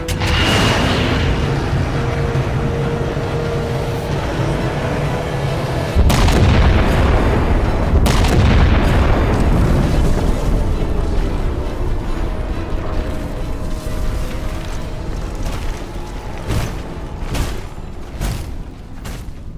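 Heavy artillery strike explosions in a Halo video game, a continuous loud barrage of deep booms and rumbling blasts with sharp impact cracks, sustained throughout with no talk.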